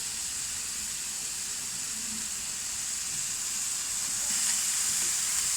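Telakucha greens sizzle steadily in a pan as a spatula stirs and spreads them to dry out the liquid, a continuous close frying hiss with soft scraping throughout.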